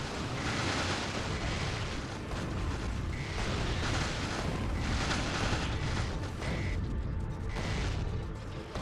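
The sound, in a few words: video game artillery fire, lasers and Tesla gun explosions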